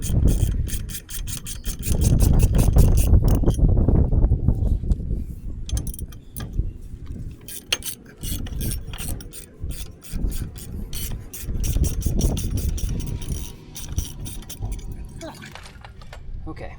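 Bolts on a 2025 Harley-Davidson Low Rider S bracket being loosened with a 5/16 bit, heard as close metallic ratcheting, scraping and rattling in irregular bursts, with a voice talking at times.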